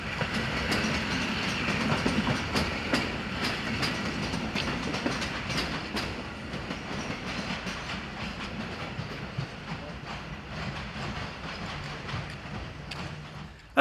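A repainted train, still in its old colours, passes on a European railway, with steady rumble and rhythmic clickety-clack of wheels over rail joints, loud and continuous throughout.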